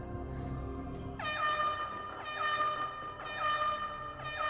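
Loud blasts of an air horn, three long honks in a row with short gaps, sounding alone over low background noise.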